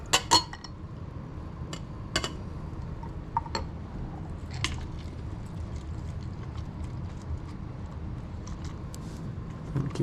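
Ice clinks against a small-necked mug while a zombie cocktail is made, with a few sharp glassy knocks early on and scattered lighter clinks over a low background.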